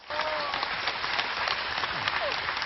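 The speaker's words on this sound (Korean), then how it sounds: "여러분 박문호 박사님을 큰 박수로 함께 맞아주시기 바랍니다." Audience applause welcoming a neuroscience lecturer at a broadcast public lecture in Gwangju, a steady dense wash of clapping throughout, fairly close and alone.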